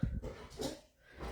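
A pet dog at home gives a couple of short barks and whimpers, fairly close and moderately loud, with no talking over it.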